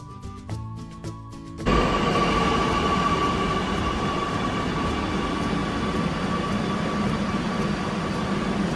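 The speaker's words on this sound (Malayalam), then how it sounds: "അങ്ങനെ മെട്രോ സ്റ്റേഷനിൽ വെയിറ്റ് ചെയ്തിരിക്കുകയാണ്." At a metro station, a metro train rolls in with a loud, sustained rumble and a faint high whine. It follows a few seconds of quieter platform sounds and continues steadily to the end.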